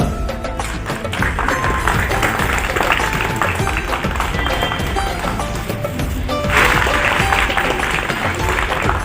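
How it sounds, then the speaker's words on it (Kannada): Scattered applause at a Republic Day sports prize ceremony for women court staff, a busy crowd patter running steadily throughout with mixed chatter and some louder bursts near the end. "ಚಪ್ಪಾಳೆ."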